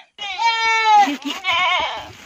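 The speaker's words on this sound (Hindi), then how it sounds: "ये बकरी को भी कंफ्यूज हो रहा है" A goat on a village farm bleats in a long wavering cry followed by a second shorter bleat, close and loud, with some voice-like overlap.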